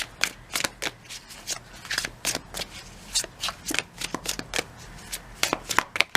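Tarot cards are shuffled by hand in quick, crisp bursts of riffling and flicking, a dozen or more short rustles in an uneven rhythm, close and fairly quiet with no voice over them.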